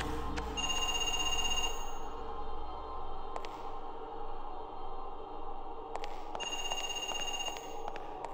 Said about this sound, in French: C'est un téléphone là-bas ?